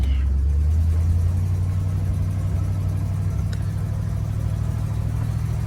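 A 1974 Buick LeSabre engine idles steadily up close, a deep continuous low rumble holding even throughout with no revving.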